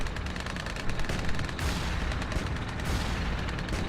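Tanks fire in a battle in the game Tropico 5, a continuous barrage of overlapping cannon and gunfire bursts with heavy booms that keeps roughly steady in loudness throughout.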